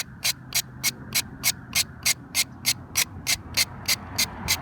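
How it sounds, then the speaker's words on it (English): A box cutter utility knife scrapes the bark of a mulberry cutting in quick, even strokes, about fifteen crisp rasping scrapes in a steady rhythm, close and clear. "I'm using this box cutter utility knife to scrape it"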